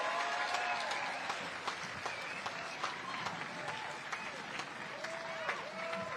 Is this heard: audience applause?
yes